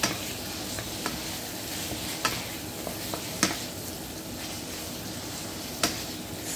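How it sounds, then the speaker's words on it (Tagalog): Chicken breast frying in a pan gives a steady close sizzle, with a few sharp clicks and scrapes from stirring breaking through at intervals. "fry lang natin siya until mag-golden brown ang ating chicken breast"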